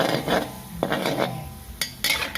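A spatula scrapes and clinks against a wok as egg cracked into boiling water is stirred and broken up for a stir-fry of mixed vegetables. The sharp taps and scrapes come close and irregular, with no talking.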